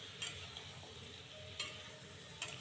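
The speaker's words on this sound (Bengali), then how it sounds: "তখন আমি এই যে ভিতরে চাল কুমড়োগুলো দিয়ে দিচ্ছি, দিয়ে এখন সুন্দর করে নাড়াচাড়া দিচ্ছি।" A spoon stirs ash gourd and shrimp curry in a pan. Three soft scraping strokes come at even intervals over a faint, steady sizzle, all quiet and close.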